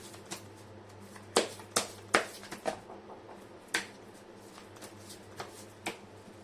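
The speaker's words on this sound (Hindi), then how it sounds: "कर लेती हूँ कार्ड की शफलिंग।" Tarot cards are shuffled close by, with quiet, irregular riffles and sharp taps in a cluster early on, then sparser flicks over a faint background hum.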